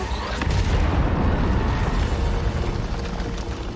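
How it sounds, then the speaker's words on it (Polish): A massive doomsday machine blows up during a live Fortnite event, a thick continuous roaring boom with deep rumbling that stays loud and sustained throughout, dense and close with no pauses. "Mówiłem, że wybuchnie! O wow, jaka eksplozja."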